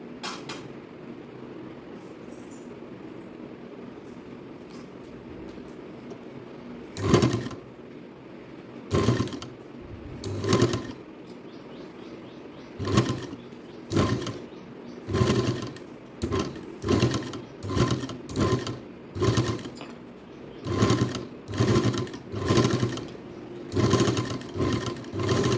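A sewing machine stitching a folded seam on a purse with lining material, running in short whirring bursts that quicken into a steady series of close stitching runs separated by brief pauses.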